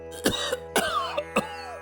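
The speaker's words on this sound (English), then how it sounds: "Oh gods, that cough is miserable." Several harsh, raspy coughs, three main bursts spaced about half a second apart, close and fairly loud.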